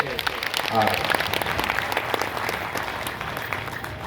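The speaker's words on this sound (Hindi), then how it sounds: "एक बार तालियां बजा करके" Applause from a crowd, moderately loud and continuous, with a voice talking faintly underneath at the start.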